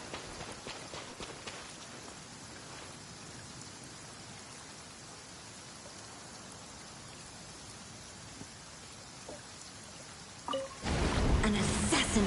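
Steady rain in the Genshin Impact video game, a soft continuous patter throughout that swells louder and harsher in the last couple of seconds.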